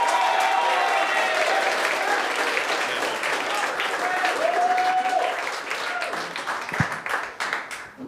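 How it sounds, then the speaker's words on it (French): A studio audience applauds and cheers as a comedian is introduced on a French-language comedy show, with steady loud clapping throughout and a host's voice briefly over it. "Et le premier humoriste de cet épisode, on l'applaudit, Seb Deschambault!"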